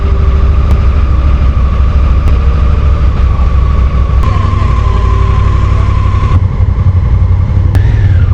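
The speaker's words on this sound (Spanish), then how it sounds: "Enciende la moto que se vaya calentando." A motorcycle on a round-the-world ride through Iran idles on a chilly morning to warm up, a loud, steady engine rumble that holds for the whole stretch with no one talking.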